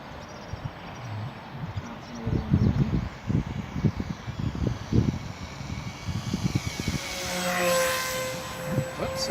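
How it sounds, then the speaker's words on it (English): A model aircraft on an evaluation flight drones steadily with a buzzing engine tone, thumps and gusts breaking in, and the whine swells louder and higher near the end as it passes close. "this will be a bit of an evaluation flight to check how everything goes"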